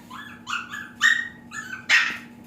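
High-pitched yappy barks from small dogs nearby, several short whining yips in a loose, uneven series.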